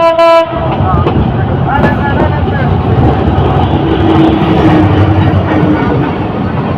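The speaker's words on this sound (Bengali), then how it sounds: "কন্টেনারবাহী ট্রেন অতিক্রম করে যাচ্ছে" A container freight train in Bangladesh passes close by at speed, a steady heavy rumble and rattle of wagons running the whole time, opening with a short horn blast and with faint tonal squeals later.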